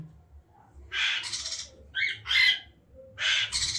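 Baby birds waiting to be hand-fed let out loud, harsh begging squawks in several short bursts, close up, with quiet gaps between the calls and no talking.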